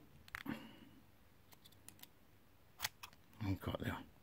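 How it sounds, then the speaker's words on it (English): Scissors snipping through a mesh deck for a Zeus X grow tent, a few short crisp clicks and cuts, close and fairly quiet, with a cluster of snips near the end. "Take the scissors again."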